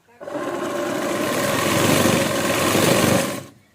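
Sewing machine stitching a lined blouse with a half-inch margin, one continuous steady whirring run that starts abruptly, holds at an even pace for about three seconds, then winds down.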